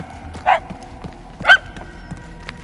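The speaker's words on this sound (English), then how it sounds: "barking is getting fainter" Dog barking in the video game Guardians of the Galaxy, two distinct yelping barks about a second apart, somewhat distant and echoing, over a low ambient game background.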